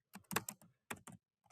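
Quick bursts of keystrokes on a computer keyboard, a few clustered taps then a short pause and a couple more, crisp and close with no voices.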